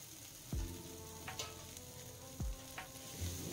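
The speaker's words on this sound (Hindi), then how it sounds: "और 1 से 2 मिनट तक इसे फ्राई कर लें।" Ground soybean filling for momos frying in a pan: a steady sizzle runs throughout with a few sharp scrapes and stirring knocks, close and fairly quiet, with no voices.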